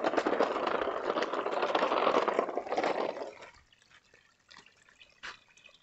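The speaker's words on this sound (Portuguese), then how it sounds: "Olha como a água vem, gente. Aqui a água vem da mata." Water running down from the forest, rushing and splashing loudly for a few seconds before dropping to a quieter trickle with scattered drips nearby.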